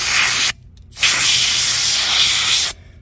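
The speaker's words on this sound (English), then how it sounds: "brake cleaner, seems to do a really good job." Brake cleaner sprays from an aerosol can into wheel bearings in two loud, close hissing bursts, the first short and the second about two seconds long, with no talk.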